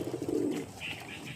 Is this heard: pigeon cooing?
yes